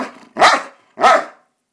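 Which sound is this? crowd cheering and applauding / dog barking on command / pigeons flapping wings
dog barking on command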